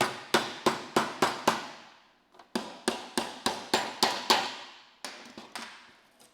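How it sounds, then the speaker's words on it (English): A hammer strikes a folded sheet metal seam in quick even runs of about five or six sharp ringing blows, with short pauses between bursts, close and loud with no talking. "Get your hammer."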